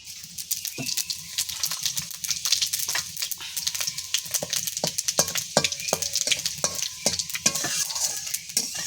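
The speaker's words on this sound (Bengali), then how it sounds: "এখানে আমি 5 ফোড়ন নিয়ে নিয়েছি, আর 2টো শুকনো লঙ্কা নিয়ে নিয়েছি, আর সাথে যে তেজপাতা নিয়ে নিয়েছি, এটা দিয়ে দেবো" Panch phoron spices, dried red chillies and bay leaves sizzle steadily in hot oil, with frequent sharp crackles and pops and a few utensil clicks over a continuous frying hiss, close and fairly loud.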